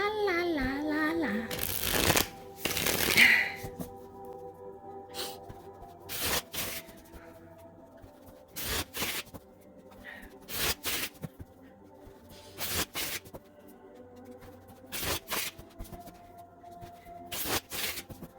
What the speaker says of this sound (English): the way that I shuffle, and I purposely do this in for most of my cards